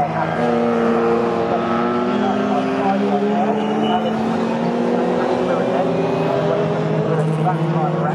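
Classic race cars roar around the Snetterton circuit during a 40-minute endurance race that includes a 2.8-litre Ford Lotus Cortina, engines rising and falling in pitch as they pass. A commentator talks over the racing throughout.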